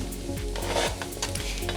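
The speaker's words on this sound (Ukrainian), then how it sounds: "І смажу також на середньому вогні ще 5 хвилин" Diced onions and sweet pepper sizzle steadily in a pan over medium heat, a close, continuous crackle with a low hum underneath and no talking.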